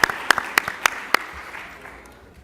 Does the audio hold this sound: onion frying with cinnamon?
no